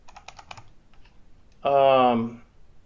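Fast keystrokes clatter on a computer keyboard in a short burst, followed after a pause by a loud sustained tone; the clicks are near and crisp, with no talking over them.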